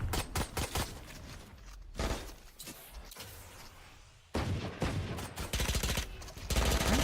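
Rapid bursts of pistol and rifle gunfire from a Valorant esports match, loud and dense, with clustered shots, a brief lull, then renewed heavy firing toward the end.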